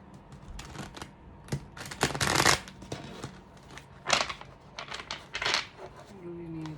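Oracle cards shuffled by hand during a reading, heard as soft riffling and flicking bursts that come in separate handfuls, fairly quiet and close, with a voice speaking faintly at times.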